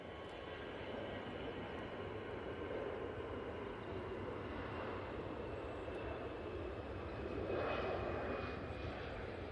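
An Airbus A320 airliner moves at Manchester Airport, its steady engine roar fairly distant and even, building slightly louder toward the end with no talk over it.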